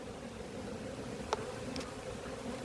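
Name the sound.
agitated honey bees buzzing at an apiary hive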